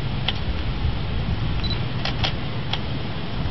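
A Canon DSLR fitted with an EF 16-35mm lens fires its shutter in a handful of sharp, close clicks, a quick pair and a few spaced singles, over a steady background hum.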